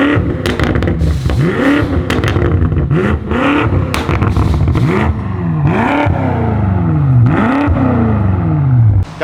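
A truck passes nearby with a loud, continuous engine roar that rises and falls in repeated sweeps as it shifts and accelerates, with clattering mechanical noise layered over the drone.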